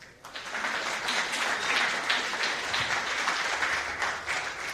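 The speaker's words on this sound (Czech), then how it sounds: "zkusme takový podpůrný potlesk" An audience at a national business competition final gives supportive applause, clapping that swells quickly after a brief start and holds steady, fairly close and full, with some individual claps audible.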